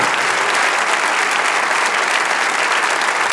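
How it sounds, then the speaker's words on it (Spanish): A church congregation applauds loudly and continuously, a dense, even roar of many hands clapping with no pauses and no clear speech. "dale ese aplauso bien grande al Rey de Reyes"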